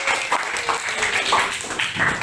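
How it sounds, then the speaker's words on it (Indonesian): Short burst of a school class clapping together during a lesson, a steady, moderately loud patter of many hands lasting about two seconds. "Kalian luar biasa, tepuk tangan kita semua."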